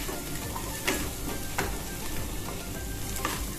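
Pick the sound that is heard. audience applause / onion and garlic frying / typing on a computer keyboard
onion and garlic frying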